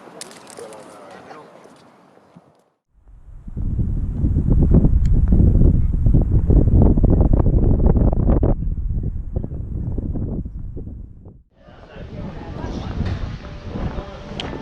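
Strong, sustained wind buffets a handheld camera's microphone outdoors on a blowy day. A rumbling roar builds after a brief lull and swells for several seconds. It drops out briefly and then returns.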